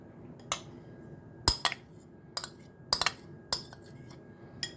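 A salad stirred and dressed in a bowl, with a series of sharp, close clinks and taps of a utensil against the dish, several in quick clusters, over a quiet background and no talk.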